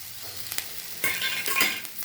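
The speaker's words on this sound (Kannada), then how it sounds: "ಈರುಳ್ಳಿ ಮುಕ್ಕಾಲು ಭಾಗ ಆಗಿದ್ಮೇಲೆ ಸ್ವಲ್ಪ ಬೆಳ್ಳುಳ್ಳಿ ಹಾಕಿ ಆಮೇಲೆ ಕರಿಬೇವು ಹಾಕಿ" Garlic and curry leaves frying with onions in a pan for tomato chutney, a steady crackling sizzle with sharper stirring scrapes and spits that swell halfway through, close and alone.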